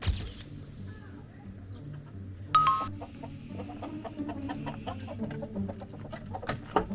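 Chickens clucking beside a chicken coop at a crowded riverside campsite, scattered short clucks and calls at moderate distance over a low background hum, with a brief louder squawk partway through.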